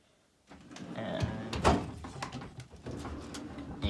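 A metal toolbox drawer slides open after a brief silence, a close scraping rattle with clunks and a sharp knock partway through, followed by lighter clatter.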